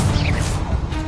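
Confringo blasting spell cast in Hogwarts Legacy, a loud, dense crashing burst with a brief whooshing sweep, filling the whole short moment close and forceful.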